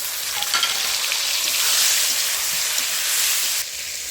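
Chopped tomatoes hit a pan of fried potatoes for an egg curry and sizzle loudly, a bright hiss with a few stirring scrapes that drops suddenly near the end.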